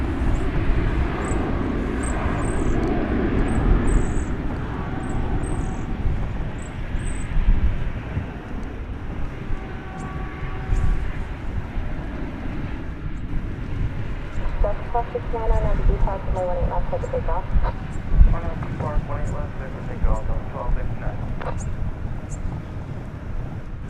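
Yellowbird airliner departing DFW airport for Cancun, a rumbling jet engine roar rising and falling steadily throughout, with people talking over it.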